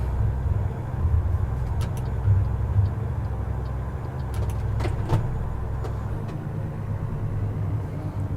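American Truck Simulator truck engine labouring in a low gear, a steady deep droning rumble held throughout at close range, with a few faint clicks and taps on top.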